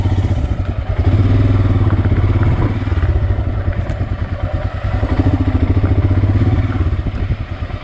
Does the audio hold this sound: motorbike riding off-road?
yes